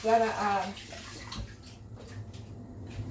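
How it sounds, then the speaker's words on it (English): Tap water runs into a kitchen sink while hands are washed after making tuna muffins, a steady close splashing that starts under a brief voice and then continues alone. "I'm just going to put this bowl in the sink here and get my hands washed"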